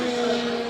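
A Formula 1 race car engine whines at high pitch in a steady, loud drone, close by, for under a second.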